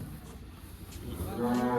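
A cow gives a low, drawn-out moo that swells louder toward the end, heard nearby with no talking.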